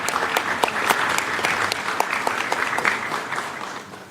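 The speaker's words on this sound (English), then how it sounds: "I think this is also worth a round of applause to the whole team behind it" Applause fills a United Nations meeting room as member states clap for the team, a dense, even patter of many hands with sharp individual claps standing out, fading slightly at the end.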